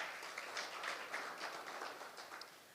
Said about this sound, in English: I think that also deserves another round of applause.